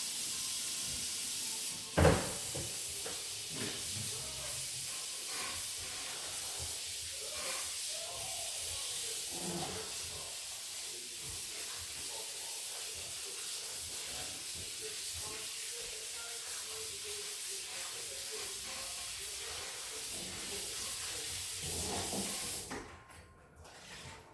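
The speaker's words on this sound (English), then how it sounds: "Let me rinse this off." Corn being rinsed under running kitchen tap water, a steady close hiss of flowing water that continues for over twenty seconds, with a brief knock early on, before it stops abruptly near the end.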